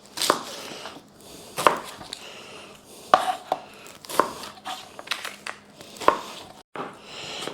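Knife chopping two onions on a cutting board, a run of sharp, close choppy impacts spaced irregularly at about one per second with faint crinkly handling between them, no voices.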